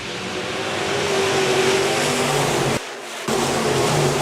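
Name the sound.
B-Modified race cars accelerating at green flag restart, speedway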